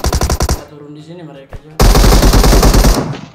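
Video game gunfire: a few sharp shots at the start, then a loud dense burst of rapid automatic fire, with brief speech-like sounds between.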